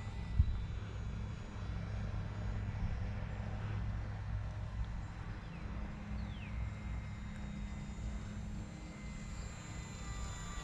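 A Parkzone UMX T-28 radio-controlled model airplane flies at about half throttle, its small electric motor giving a steady, thin, moderately distant drone that holds level throughout.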